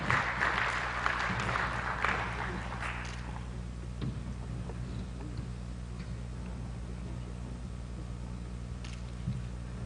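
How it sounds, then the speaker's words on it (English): An audience at a mathematics conference applauds a speaker, a burst of clapping that is loudest at first and thins out within a few seconds, leaving a quiet hall with scattered faint claps. "Please give a big applause to our speaker."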